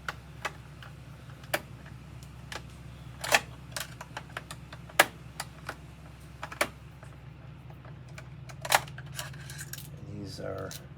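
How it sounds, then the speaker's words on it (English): Screws being unscrewed from a Tascam 488 cassette recorder: faint, scattered sharp clicks and metallic ticks at irregular intervals over a quiet background. "So I'll take these screws out."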